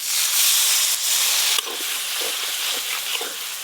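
A little water hits a hot pan of poppy seed paste, drumstick flowers and potato, setting off a loud, steady sizzle that eases slightly after the first second and a half, with light stirring scrapes following.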